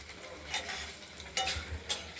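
Paneer frying in a kadai gives a soft, steady sizzle with a few brief stirring scrapes and spatters, close and fairly quiet.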